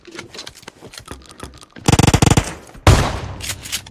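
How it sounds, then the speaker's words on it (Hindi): Rapid bursts of gunfire crackle loudly, a fast rattling volley followed by another sharp burst, with lighter clicks and taps before them. "गोलियां गोलियां चली"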